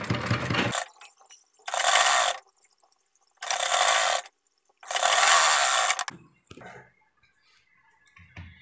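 A sewing machine stitches along the edge of palazzo pants in three bursts of rapid mechanical whirring, each lasting one to two seconds, close and clear, with short quiet gaps and light handling clicks between them.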